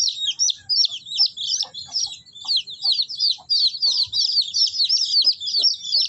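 Chicks chirp continuously in high, busy peeping during F1 vaccination, many birds close together, with faint handling noises and soft thumps underneath.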